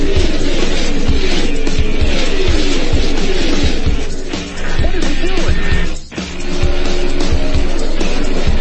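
Roaring race car engines and tire noise fill the scene loudly and continuously, with brief dips, as cars speed past.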